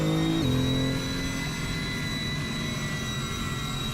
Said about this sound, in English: This is the car that sounds like an airplane.